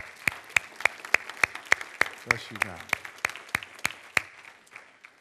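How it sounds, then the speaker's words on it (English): A church congregation claps slowly and in unison, about sixteen sharp, evenly spaced hand strikes at a steady rhythm, with a brief spoken blessing over the middle of the run. "Let's give the Lord a clap for that."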